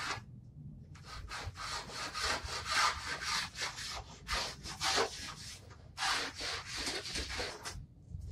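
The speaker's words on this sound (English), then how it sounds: "I'm cutting off the back side of the door" A hand saw cuts through the back edge of a wooden door in rhythmic back-and-forth strokes, loud and close, pausing briefly between bursts of rasping cuts.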